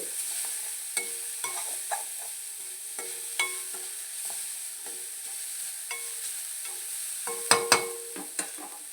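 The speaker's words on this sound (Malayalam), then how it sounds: "എന്നിട്ട് ഈ പൊടി ഇതിലേക്ക് ഇട്ട് കൊടുക്കാം നമ്മൾ കൊണ്ടാട്ടം ഒന്ന് ഇളക്കി കൊടുക്കാം" Pappadam kondattam is stirred in a pan with a spoon, giving sparse, close scraping clicks and taps over a faint, steady sizzle, with no voices.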